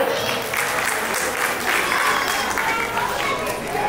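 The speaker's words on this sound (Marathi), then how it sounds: "जरा एकदा आजी बाबांसाठी जोरदार टाळ्या झाल्या पाहिजे." A seated audience at a Maharashtrian baby shower gives the grandparents a loud, steady round of applause, dense continuous clapping lasting the whole stretch.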